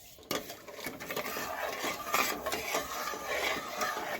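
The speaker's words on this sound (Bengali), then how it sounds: "এবারে আমি চিনিটা নেড়ে চেড়ে একটা রস তৈরি করে নেবো।" Sugar stirred in a metal pot to make a thin syrup for balushahi sweets, a steady close scraping and clinking of spoon against pan, continuous and fairly quiet, with no voices.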